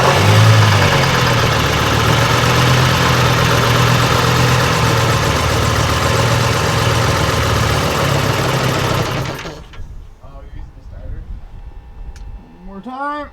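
The engine of an AVGP Husky armored vehicle runs loud and steady with a deep rumble for about nine seconds, then cuts off, leaving quiet background noise with faint tones; voices can be heard.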